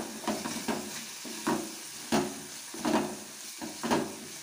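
Egg bhurji masala with tomato and coriander powder frying in a pan, heard as a low sizzle with a run of distinct scraping stirs against the pan, close and even.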